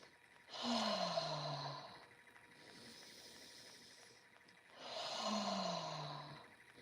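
Slow, gentle breath drawn in through the nose during a guided meditation, two long soft inhales separated by a quieter pause, close and calm with no talking.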